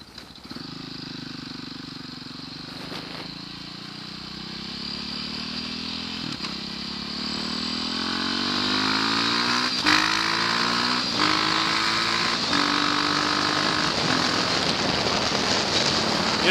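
A KTM 530 supermoto motorcycle being ridden, its single-cylinder engine climbing through several rising rev pulls and gear shifts, loud and close with steady wind rush.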